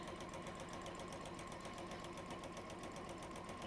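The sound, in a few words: sewing machine stitching side seams of a bag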